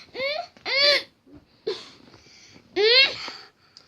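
A cartoon character sneezes over and over from sneezing powder. Three strong, voiced, wailing sneezes come close and loud, with softer breathy sounds and short gaps between them.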